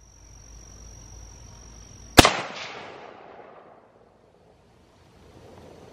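A single sharp, loud Mosin Nagant rifle shot rings out outdoors among trees and rocks, followed by a long rolling echo that fades over a second or two, with a high steady tone in the background beforehand.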